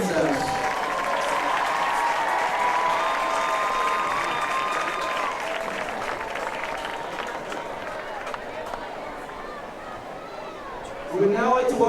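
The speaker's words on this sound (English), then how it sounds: "Please give a big round of applause to this year's Junior Court" Sustained crowd applause and cheering fill a football stadium during a homecoming court presentation, a broad, steady wash of clapping with a faint announcer-like tone, swelling slightly again near the end.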